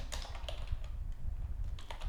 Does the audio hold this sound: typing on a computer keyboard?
yes